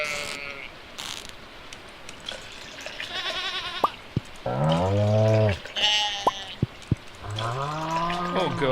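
Sheep bleating in the Stardew Valley farming game, several short wavering bleats spaced apart, mixed with clicking menu and ratchet-like game effects at moderate level.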